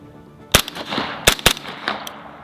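Several suppressed rifle shots from an overgassed gun fitted with a Dead Air Sandman-X suppressor, loud sharp cracks in an irregular cluster, with short echoing tails in a quiet outdoor setting.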